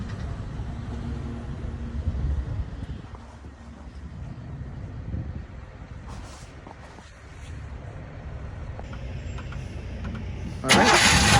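A 1965 Oldsmobile Starfire convertible cranks and fires up, settling into a rumbling idle close by, with the engine roar swelling at the end.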